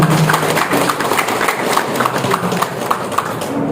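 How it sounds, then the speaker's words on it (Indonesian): Lively audience applause at a community event in Musi Rawas Utara, a thick, continuous clatter of many hands clapping close by, with faint voices mixed underneath. "Baik, beri tepuk tangan meriah."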